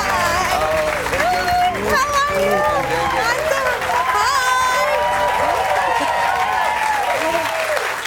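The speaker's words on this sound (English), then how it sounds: "Please give a round of applause for Meghan McCain on The Van Jones Show." A talk-show studio audience applauds and cheers a guest's introduction, loud sustained clapping with whoops and excited voices layered over it throughout.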